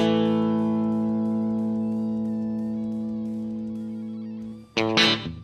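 Telecaster electric guitar through a Kuassa amp sim with slapback, a single sustained chord ringing loud and bright and slowly decaying with faint echo, then a sudden scratchy strum or pick noise at the end.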